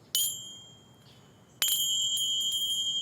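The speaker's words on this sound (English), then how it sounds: "My first prop are teeny tiny cymbals." Teeny tiny cymbals struck twice, each a bright metallic ring, the second hit sustaining with a shimmering tail, quiet and alone.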